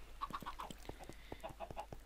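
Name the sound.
chickens clucking in the video game Minecraft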